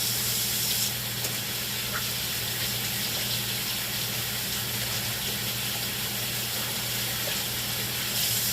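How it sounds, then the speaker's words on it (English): Tap water runs in a steady, soft hiss and spray as hands are washed in a home kitchen, continuous and unbroken for several seconds with no talking. "Always wash your hands."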